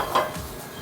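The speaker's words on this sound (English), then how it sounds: "Give this a beautiful mix in here" Chopped cabbage, carrots and chow chow are tossed in a cooking pan with red chili powder and green chilies, giving a brief scraping, rustling stir with light metallic clinks, close and fairly loud.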